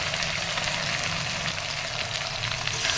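Spice paste with a whole tomato and a piece of ginger sautés in a pan, a steady, dense sizzle of frying at moderate volume, with no talking over it.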